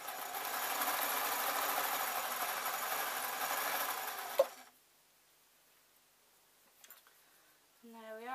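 A sewing machine runs steadily while stitching a simple lightweight scarf top, a loud continuous whir for about four seconds that stops abruptly, followed by near silence, a couple of small clicks and a brief voice at the end.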